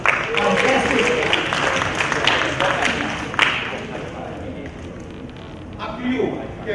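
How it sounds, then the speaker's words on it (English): Audience applause at a self-empowerment programme for A Level students, a dense burst of clapping that fades over several seconds, with a voice speaking near the end. "Give her a round of applause."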